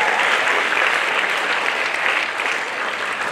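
An audience at a junior high school play in Nairobi applauds, a thick continuous wash of many hands clapping close and loud, holding steady throughout with no speech.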